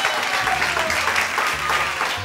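Applause in a Spanish TV show studio, dense continuous clapping at close range with a low hum and murmuring voices underneath.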